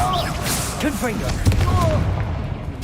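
Confringo spell blasts in Hogwarts Legacy make a thumping boom with whooshing bursts amid busy combat effects, while someone talks over the fighting.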